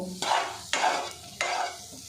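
Potatoes frying in ghee over a medium gas flame are stirred with a spatula: three distinct scraping strokes over a faint, quiet sizzle.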